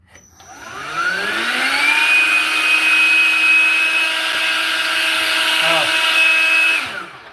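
A tire inflator from a tool haul switched to blow mode, its motor whining up in pitch over the first two seconds, then holding a steady loud droning hum before cutting off near the end.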